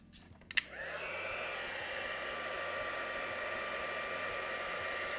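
A heat gun melting embossing powder starts with a soft click and clatter, then settles into a steady, close, continuous fan-and-air blowing hiss with no talking.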